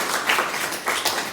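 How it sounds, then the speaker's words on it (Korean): A lecture audience breaks into brief clapping, a short burst of scattered hand claps close by. "박수 한번 쳐주세요"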